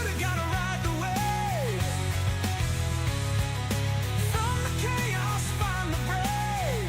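Texas country music blended with bluesy rock plays steadily at a moderate level, with a driving beat, bass line and sliding guitar or vocal lines running throughout.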